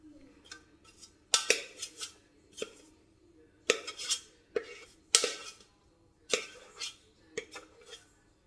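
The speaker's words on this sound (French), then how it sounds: "avec une cuillère en métal à venir récupérer dans le fond du bol les restes" A metal spoon scrapes and clinks against the bottom of a Thermomix TM6 bowl, gathering leftover marzipan: a string of sharp, close metallic scrapes and taps at an irregular rhythm, with no talking.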